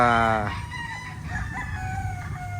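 A caged local banded rooster crows loudly and close at the start, followed by a mix of softer clucking from other caged chickens on a farm.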